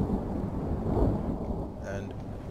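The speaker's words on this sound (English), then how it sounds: "And I didn't think it would be raining." Rain falls steadily in a Third Age Total War battle from the Divide and Conquer mod, a dense low hiss with a deep rolling rumble of thunder swelling and fading underneath.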